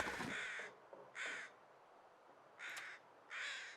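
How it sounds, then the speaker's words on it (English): Crows in The Long Dark video game give four distinct caws, spaced roughly a second apart, fairly close and clear against a faint ambient background. "We are going to be listening for crows, just like the ones we're hearing now."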